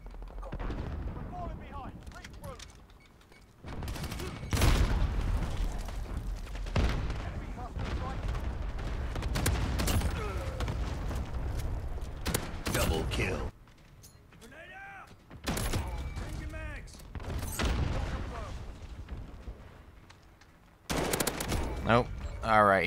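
Gunfire in a first-person shooter game, with repeated loud bursts of shots and booming blasts spread through the stretch, some near and some further off, with brief lulls between volleys and a player talking over parts of it.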